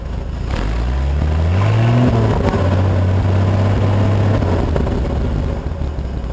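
The rebuilt Frankentruck engine idles loud and close, then is revved twice in quick rising swells before settling back into a steady, throaty run.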